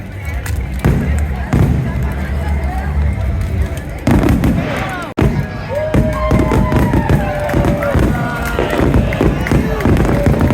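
Fireworks explode in rapid succession, sharp bangs and crackles layered over a murmuring crowd, loud and close throughout.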